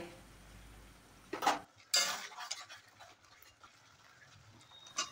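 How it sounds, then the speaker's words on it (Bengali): Chicken with spices is stir-fried (kosha) in a pan: spoon scrapes and metallic clinks come in short bursts over a faint background, with no voices. "এবার সব কিছুর সাথে ভালো করে কষিয়ে নিতে হবে"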